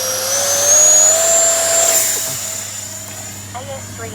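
An FGFRC Arrows Avanti S 50mm electric ducted-fan RC jet runs at about three-quarter throttle for a hand launch, giving a loud, close, steady high whine with a faint rising tone under light background noise.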